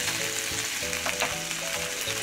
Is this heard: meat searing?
yes